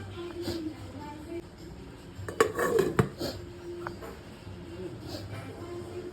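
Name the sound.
lid being put on a cooking pot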